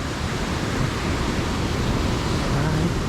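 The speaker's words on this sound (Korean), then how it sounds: "이 파도 소리가 너무 심해가지고" Ocean waves break on the shore at Nha Trang, Vietnam, making a constant loud wash of surf that continues without a break throughout.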